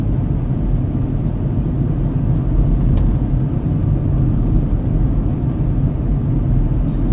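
A car engine drones steadily from inside the cabin at about 29 miles an hour, a constant low rumble with no clear break for a gear change.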